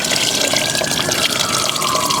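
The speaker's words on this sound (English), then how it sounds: "it's time to flush the distilled water out and refill it." Distilled water draining out of a motorcycle radiator in a steady, close splashing pour, like a running tap, continuous throughout.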